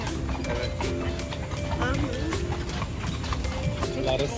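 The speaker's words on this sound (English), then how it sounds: "I see the horses" Horse hooves clip-clop steadily in a busy outdoor New York City park setting, with voices and background bustle mixed in throughout.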